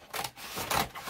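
Paper is cut for a Christmas stocking junk journal in two quick, soft snipping strokes, close and fairly quiet, with no voices.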